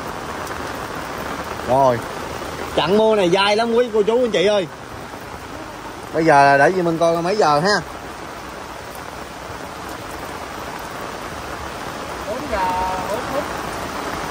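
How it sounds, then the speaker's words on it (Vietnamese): Steady heavy, persistent rain hisses at a graveside in Vietnam, a continuous wash underneath bursts of someone talking. "Trận mưa này dai lắm quý cô chú anh chị ơi"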